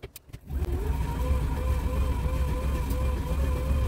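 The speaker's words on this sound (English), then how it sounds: "we've got the 3 kilowatt bike motor hooked up. And I'm just gonna show you what that can do" A 3 kilowatt motor on a spin bike generator, part of a wind turbine setup, spins up after a short pause into a steady close whirring drone with a faint rising whine that holds evenly to the end.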